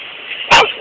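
A single short, sharp dog bark cuts in over a quiet background hum.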